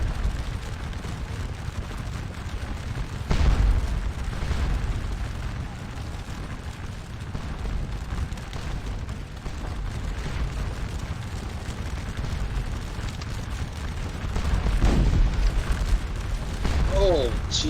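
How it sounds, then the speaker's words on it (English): Artillery shells explode in a Napoleonic battle video game, with deep, rumbling booms rising twice over a constant roar of gunfire and battle noise. "that shell just took out like 6 people"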